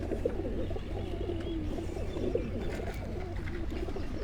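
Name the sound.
pigeons cooing, breeder pigeons on a rooftop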